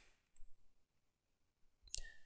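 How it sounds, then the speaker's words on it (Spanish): A computer mouse gives a single sharp, quiet click near the end of an otherwise near-silent stretch. "Hago clic."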